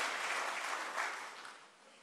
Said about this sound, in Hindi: कुछ तालियां यहां बजती है कुछ तालियां पीछे बढ़ती है